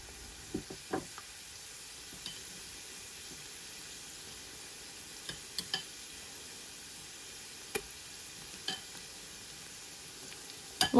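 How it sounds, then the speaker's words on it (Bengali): Spiced masala for a wedding-style chicken roast is sautéed in a pan, a soft steady sizzle broken by repeated sharp spatula knocks and scrapes at irregular intervals. "খুব ভালোভাবে আমি মশলাটা কষাতে থাকব।"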